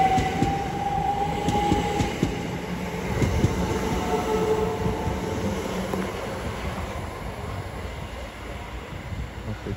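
Southeastern passenger trains pulling out of Bromley South station on the South Eastern Main Line, with steady rolling rumble, rail clatter and faint wheel squeal close by, continuous for the whole stretch.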